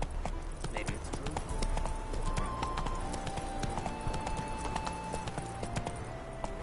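Hooves of the horse Roach galloping in The Witcher 3, a rapid, steady clip-clop of hoofbeats across open ground with ambient game sound beneath and a voice speaking over it.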